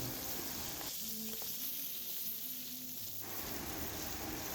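Milkfish (bangus) frying in oil, a steady close sizzle running throughout, with a quieter stretch in the middle that has faint low thumps.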